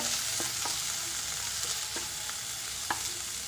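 Chopped tomatoes frying in a pan, with a steady sizzle broken by a few light, spaced taps of the spoon against the pan, no one speaking.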